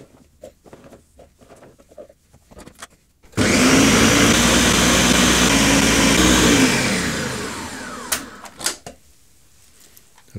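A blender whirs loudly for about three seconds, mashing ingredients for a big fermentation batch, then winds down, with quieter knocks and handling noises before and after.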